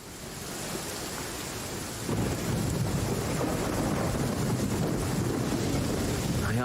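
Thunder rolls in the video game Genshin Impact, a broad rumbling roar with rain-like hiss that swells after a couple of seconds and stays heavy and continuous.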